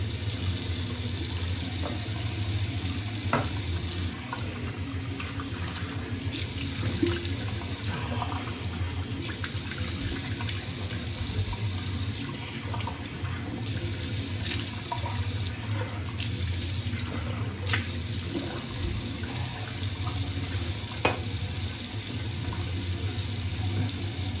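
Tap water running into a sink while rinsing off after a straight razor shave, a continuous close splashing stream that shifts slightly as hands move through it, with no talking.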